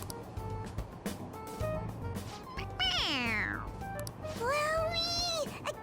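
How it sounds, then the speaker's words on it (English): Two drawn-out video game toy cat meows, rising then falling in pitch, one after the other over a steady low rumble of background noise. "It meows when you press on its head."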